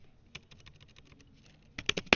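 Computer keyboard typing while entering a command in a VB.Net program that works with SQL Server: a few scattered keystrokes, then a quick close burst of clicks near the end, with no talk.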